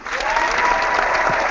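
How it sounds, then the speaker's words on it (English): A canned applause sound effect plays briefly, a full, even burst of crowd clapping that stays loud and steady for its whole short run. "Oh, wait, I have applause."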